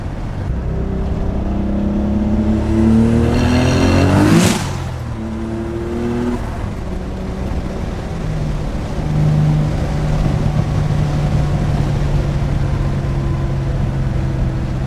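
Nissan 300ZX twin turbo with dumped wastegates pulling hard in second gear, a loud rising engine roar climbing in pitch to a sharp peak, then a shift and a deep steady drone as the car keeps going.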